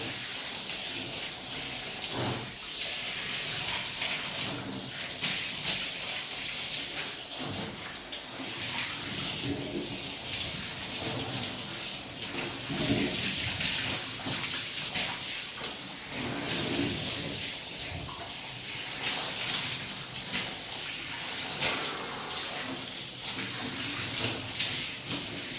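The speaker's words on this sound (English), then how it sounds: "Okay, now I'll just rinse her off." Tap water runs steadily over a dog being rinsed during grooming, a continuous close splashing gush that shifts in tone as the stream moves over the coat, with no talking.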